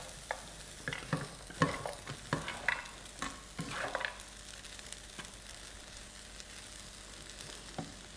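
Pineapple fried rice with cashew nuts being stirred in a pan, giving a run of close scraping, tossing strokes over a soft sizzle, the stirring busiest early and then easing off to a quieter steady fry.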